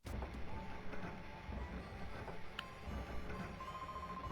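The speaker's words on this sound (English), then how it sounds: "We will enter the train." Train ride in a Pokémon Colosseum mod video game, a steady rumbling rail loop with faint clicking and a few high tonal chimes, continuous and moderately quiet, with no voices.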